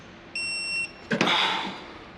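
A digital torque wrench gives a single sustained electronic beep about half a second long, followed by a short clunk and a fading metallic rattle.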